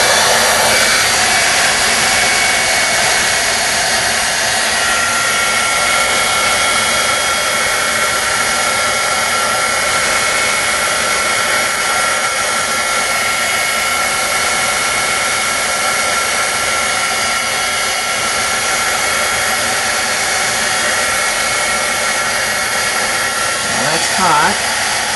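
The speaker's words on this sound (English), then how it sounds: "So I take my heat gun and I heat that up." A heat gun roars steadily and loudly up close while heating embossing powder on a spoon, a continuous airy blowing hum that barely changes throughout.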